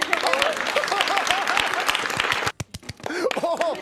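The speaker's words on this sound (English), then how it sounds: "They're gonna clap." A small group claps and applauds, a dense patter of hand claps with a brief lull before it picks up again, while voices talk over it.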